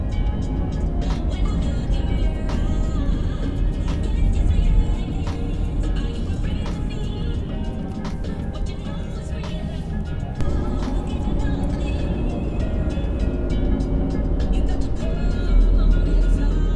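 Car driving along a road on the way to the shop, a steady low road and engine rumble heard from inside throughout, with occasional clicks and small bumps.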